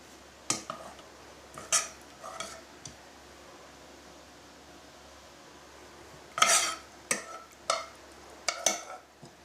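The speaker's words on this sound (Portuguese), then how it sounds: "Dá uma mexidinha no molho." A metal spoon scrapes and clinks against a dish while sauce is stirred and spooned over hake fillets, in two clusters of sharp, close taps separated by a quiet pause.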